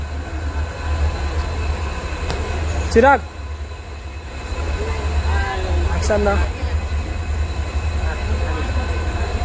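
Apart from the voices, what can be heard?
train arriving at the station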